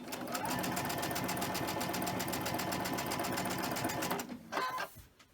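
A sewing machine stitches a straight seam on small fabric squares for a mini Christmas tree wall hanging, with a fast, steady needle rhythm up close before it stops and a few brief handling sounds follow.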